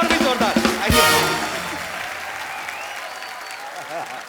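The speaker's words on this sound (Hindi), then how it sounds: "जोरदार तालियां यामी, ऋतिक सर और उर्वशी के लिए, और मेरे लिए और भी जोरदार" Studio audience at a comedy talk show claps loudly and warmly, a full burst of applause that peaks early and then slowly tapers off while a few voices carry on beneath it.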